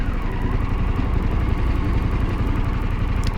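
A Harley-Davidson Pan America motorcycle rides in standard mode, giving a continuous, steady engine drone with road rumble, heard close and loud throughout.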